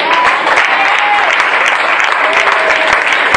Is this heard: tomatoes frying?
no